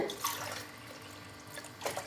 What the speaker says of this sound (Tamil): மீதத்துக்கு நம்ம தண்ணி ஊற்றிக்கலாம்.